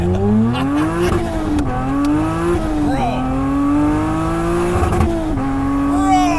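The engine of a 2002 Acura CL Type-S revs hard and climbs through gears, a loud sustained drone rising in pitch between shifts, heard from close inside the car.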